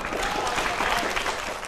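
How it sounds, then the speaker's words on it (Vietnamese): A short burst of studio audience applause at a Vietnamese dating show, dense and steady clapping throughout. "Thấy dưới vỗ tay là hiểu bển bển sao rồi đó."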